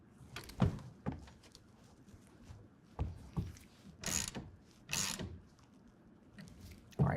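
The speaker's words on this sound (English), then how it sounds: "we're going to take a 1/2" wrench or ratchet, and then tighten it down to 7 foot-pounds." A ratchet clicking in short bursts while tightening the clamps of a TruXedo TruXport soft roll-up tonneau cover on a 2024 Ford F-150, close and fairly quiet, with pauses between the bursts.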